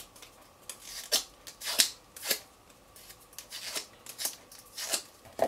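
Decorative patterned paper being folded for a paper bow: a series of crisp, close creasing and crinkling snaps, about ten distinct bursts spaced irregularly across a quiet background, with no talking.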